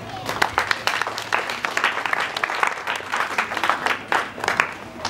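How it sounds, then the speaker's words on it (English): A crowd of parents and pupils applauds at a kindergarten graduation ceremony, producing steady, dense clapping that stays loud and even from start to finish with a slightly roomy, echoing quality. "Can our parents and pupils give them applause?"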